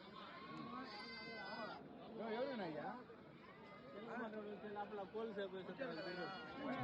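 Sheep and rams bleat repeatedly at a busy livestock market, several animals calling close by over a steady murmur of people talking.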